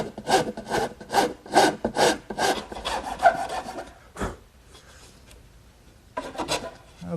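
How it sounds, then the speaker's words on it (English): A wood rasp files down the dovetailed corner of a wooden Shaker washstand: quick rhythmic scraping strokes, close and fairly loud, then a pause, a single knock, and another short burst of strokes. "I'm going to even those out using my rasp"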